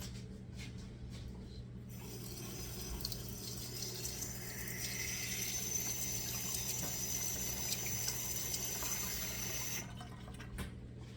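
Cold water runs from a kitchen tap for bread baking, a steady hiss and splash that starts abruptly, holds for about eight seconds and then stops, close and fairly quiet.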